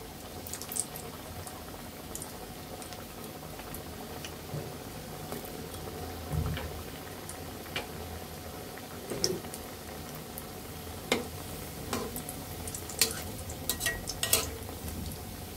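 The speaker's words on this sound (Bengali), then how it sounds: "এখন আমরা তেলে ভেজে নিব" Jalebi made from flour and milk powder bubbles gently in hot oil over a low flame, a soft steady simmer with scattered small pops and crackles that grow a little busier toward the end.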